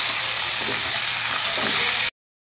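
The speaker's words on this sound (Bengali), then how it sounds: "বাকি সবজিগুলো একসাথে ভেজে নেব।" Potatoes and other vegetables, including pointed gourd, frying in a pan with a loud, steady sizzle and hiss and a few stirring scrapes, then a sudden cut to silence.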